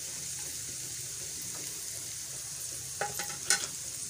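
A bread and vegetable mixture in a pan, a quiet steady hiss that ends in a few close scraping stirs near the end, with no talking.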